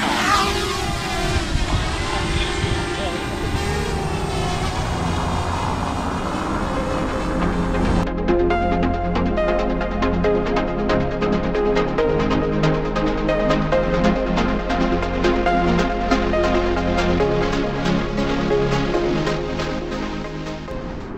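A DJI Mavic Mini drone's motors whir up from a noisy start into a steady, high, buzzing whine that holds for many seconds at close range, with wind-like rumble underneath.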